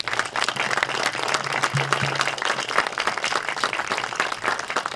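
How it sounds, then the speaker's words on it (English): Sustained audience applause honoring the Doolittle Raiders at a warbirds air show event, dense steady clapping from a large crowd filling the whole stretch with no pauses. "let's give them a big round of applause"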